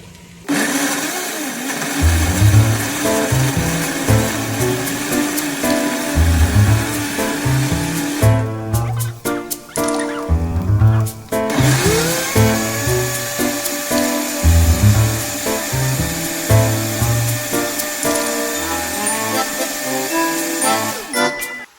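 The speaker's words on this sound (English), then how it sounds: "we're gonna put our blender top back on and we're gonna blend that up" A blender blends a sauce for birria tacos, whirring loudly for a long stretch, its motor pitch rising and dropping in pulses, then settling into a steady high whine.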